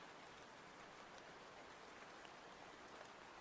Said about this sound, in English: Although I do enjoy the rain sounds.